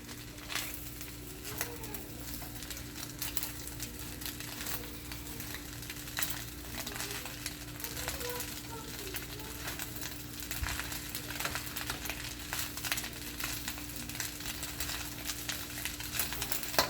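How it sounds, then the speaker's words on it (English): Chicken fried rice sizzling in a wok over medium heat while being stirred, a steady crackling fry with occasional scraping of the utensil, moderately quiet and continuous. "I'm mixing all of these wonderful ingredients together"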